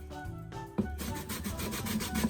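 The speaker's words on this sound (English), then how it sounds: "keep on grating" Cassava root grated by hand against a metal grater, a close, steady scraping rub that repeats in quick strokes with no talk.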